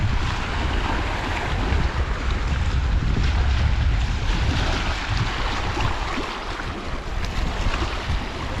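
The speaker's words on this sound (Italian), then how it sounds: "Però c'è vento" Wind blowing across a swimming lake, a steady rushing roar with buffeting gusts on the microphone and a faint sense of water movement, no voices.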